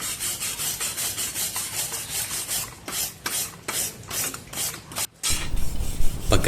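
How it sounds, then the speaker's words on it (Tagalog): A steel brush scrubs rust off a metal bracket for a Monarch Axis 125 motorcycle fender extension, giving rapid rhythmic rasping strokes up close and loud with a short pause near the end, no talk. "gumamit ng steel brush para pantanggal ng mga kalawang"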